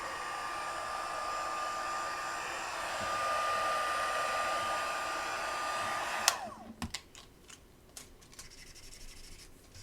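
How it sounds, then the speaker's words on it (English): A heat tool blows steadily over wet craft paint, a loud continuous whooshing hum for about six seconds, then cuts off abruptly, leaving a few faint rubbing and tapping sounds nearby. "And now we'll dry it a bit. The heat tool will also manipulate the color and move it."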